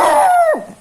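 A dog gives a single close, loud yelping bark or whine that drops in pitch, heard during typhoon flooding in the Bicol region, alone and brief.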